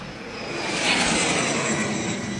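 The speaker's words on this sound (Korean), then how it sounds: "제트 엔진 소리야." A jet-powered Geran drone passes over Snovsk village in the Chernihiv region, a steady rushing engine roar that swells toward the middle and then slowly fades, heard from some distance.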